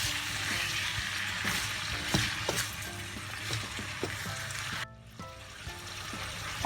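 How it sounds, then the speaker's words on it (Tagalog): Shrimp sautéing in a pan, a close, steady sizzle broken by taps and scrapes of stirring, with a brief dip in the hiss near the end before it resumes. "Bale, igigisa natin siya."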